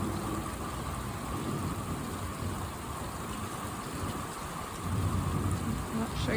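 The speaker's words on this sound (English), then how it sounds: "it started raining and thundering" Steady rain pours down outside a house in the Australian hinterland, with low rolls of thunder rumbling beneath the continuous hiss.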